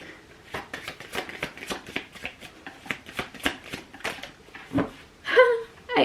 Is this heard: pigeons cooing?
no